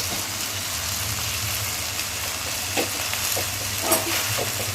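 Boiled noodles being stir-fried with vegetables and egg in a pan, a steady low sizzle with occasional faint scrapes of stirring, no talk.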